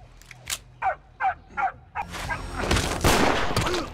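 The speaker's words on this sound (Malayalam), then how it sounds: "വീണ്ടും വീണ്ടും നായ കുരക്കുന്നത് കേട്ട്" A dog barks four times in a steady, evenly spaced run, then a loud, dense burst of noise takes over and drowns everything out.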